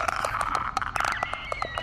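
A Clicker, the blind fungus-infected enemy from the horror game The Last of Us, makes rapid, irregular echolocation clicks and gurgling rattles over an eerie tonal background, close and continuous.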